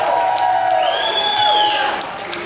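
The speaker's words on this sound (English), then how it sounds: "Come on, give her a round of applause." A crowd cheers and applauds for a young singer, with whoops and rising whistle-like cries over a loud, steady wash of clapping that eases slightly at the end.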